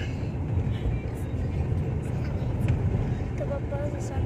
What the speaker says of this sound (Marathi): ही गाडी लई डुगडुग हलतीये.